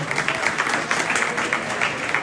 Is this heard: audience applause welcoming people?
yes